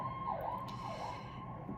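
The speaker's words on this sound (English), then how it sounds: "Spirit, here come the sirens" An emergency siren wails in rising and falling sweeps over a steady low traffic rumble, moderately distant and heard alone.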